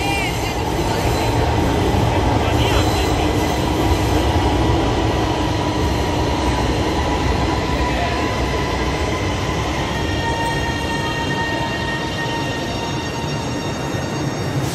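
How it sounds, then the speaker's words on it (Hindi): An Orange Line metro train changes tracks and pulls back into the station, a loud continuous rumble of rolling rail cars with faint wheel squeal and clatter throughout. "ट्रैक चेंज करके ट्रेन वापस दूसरे ट्रैक पर आ चुकी है"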